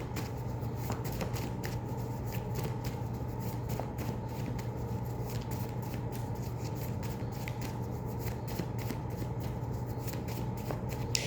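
A tarot card deck is shuffled over and over: quiet, close riffling and fluttering bursts that repeat steadily throughout, with no voice.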